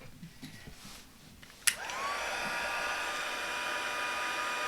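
A crafting heat tool clicks on with a sharp snap, then blows a steady, airy whine like a hair dryer while setting stamped ink on a card, heard close and alone.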